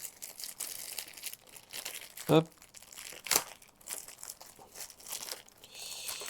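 A Corsair Harpoon gaming mouse comes out of its packaging with crinkling plastic and crumpling wrap, two sharp tearing bursts standing out, while someone speaks quietly between the rustles.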